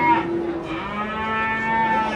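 Cattle moo in long, drawn-out lows at a livestock market in Karakol, loud and close, with more animals lowing around them.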